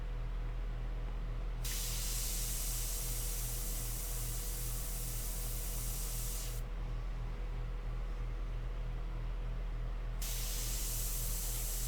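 An airbrush sprays India ink onto paper in three long, steady hissing bursts, separated by short pauses, over a low constant hum.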